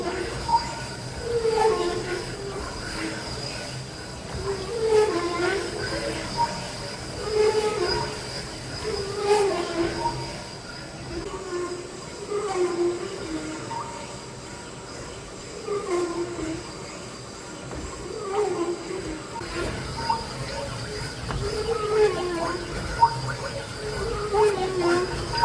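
A honing machine working the barrel of a cracked hydraulic cylinder from a large Caterpillar grader, a steady droning whir with rhythmic scraping pulses repeating every few seconds, moderately loud throughout.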